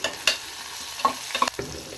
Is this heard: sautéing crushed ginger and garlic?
yes